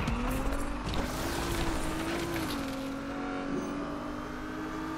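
A car accelerating in the street racing game Need for Speed Unbound. The engine holds a steady, close, loud tone that rises and dips slightly, with rumbling road noise underneath.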